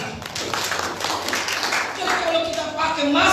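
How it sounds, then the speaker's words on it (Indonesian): Congregation clapping together at a church service in Indonesia, a steady broad patter of many hands lasting the whole moment, with some voices mixed into the crowd noise. "Tepuk tangan buat kita."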